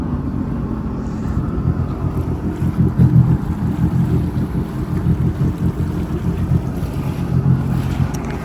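A jet ski engine runs on the water after starting, a steady low rumble with mild surging and windy wash, fairly loud and continuous with no talking.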